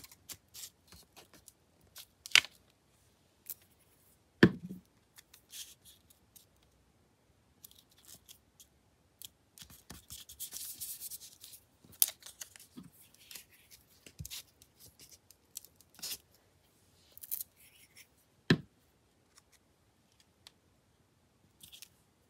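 Scissors trimming paper overhangs from a glued craft project, making sparse, quiet snips and clicks scattered across a mostly silent background.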